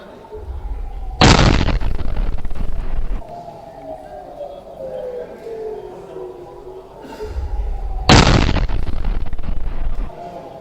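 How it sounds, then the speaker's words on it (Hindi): Two loud explosions from an Iranian missile attack on Jerusalem, Israel, each a sudden heavy blast that rumbles on for a couple of seconds, spaced several seconds apart, with a siren-like wail and distant background noise between them. "बीती रात ईरान की मिसाइल ने इजराइल में हिट किया"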